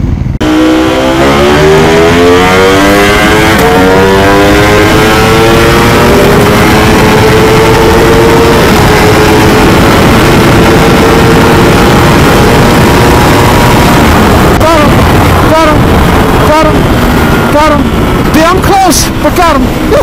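A loud, high-revving BrenTuned BMW S1000RR motorcycle engine screams steadily, pitch sweeping up and down through shifts, with sharp crackling blips near the end.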